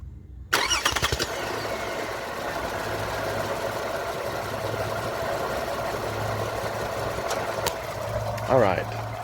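Engine of a 2014 Toyota Camry cranks and catches near the start, then settles into a steady idle close by, with a brief voice near the end.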